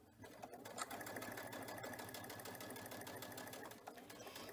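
A sewing machine stitches a quarter-inch patchwork seam, giving a steady, close, rapid mechanical whir of needle strokes that runs continuously for several seconds.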